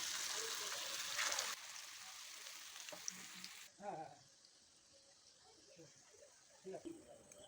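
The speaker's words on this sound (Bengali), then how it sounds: "বাকিগুলো আমি এখন ভেজে নিচ্ছি" Lentil and bread snacks fry in hot oil with a steady loud sizzle at first that drops to a quieter bubbling, close by, with a voice heard now and then.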